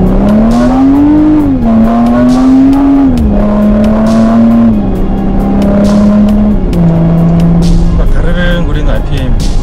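A Porsche Cayenne Coupe in sport mode revs hard and up close, its engine note climbing and dropping through repeated gear pulls with a loud, continuous snarl, while voices talk in the cabin.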